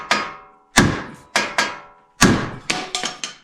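Sharp metallic hammer blows against the metal of a crash-damaged Camaro, about seven strikes in uneven bursts, close and loud, each ringing briefly before fading, with no talking.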